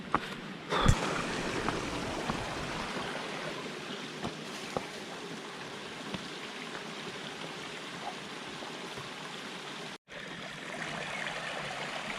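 Shallow river water flowing along a forest trail toward a lagoon, a soft, steady wash of running water throughout with a few brief knocks and no talking.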